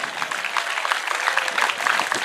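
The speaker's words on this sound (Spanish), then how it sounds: "dele palmas al Señor" A church congregation clapping together during a worship service, with dense continuous applause filling the room throughout.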